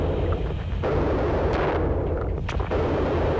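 Turret gunfire in the sci-fi game Duskers, a dense, loud barrage of booming shots with sharp bursts standing out, running continuously without talk.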